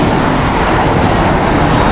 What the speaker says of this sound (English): American Airlines Flight 307 going to JFK. It's an Airbus A321, 9 years old.